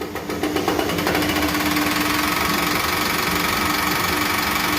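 A 1KZ diesel engine fitted with a mechanical injection pump catches and settles into a loud, steady clattering idle, close and continuous with a rhythmic knock throughout.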